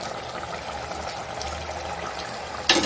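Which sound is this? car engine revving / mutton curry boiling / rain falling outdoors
mutton curry boiling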